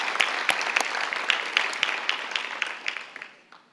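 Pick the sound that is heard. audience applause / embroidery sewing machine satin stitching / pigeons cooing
audience applause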